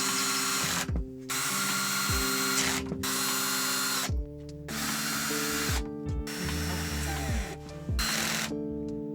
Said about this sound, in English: I'm going to get them lightly in first on all of them and then go around and tighten them.